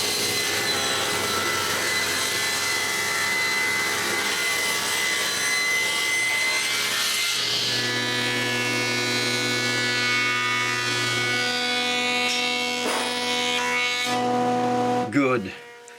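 A power saw cuts boards of wood for raised door panels with a sustained, loud, whining drone that shifts pitch partway through as the blade bites. The sound stops abruptly near the end.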